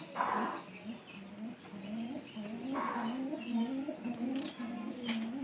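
A pigeon coos repeatedly at close range in a quiet setting, soft low throaty calls in a steady rhythmic series with brief gaps, accompanied by a few faint higher chirps and small background rustles.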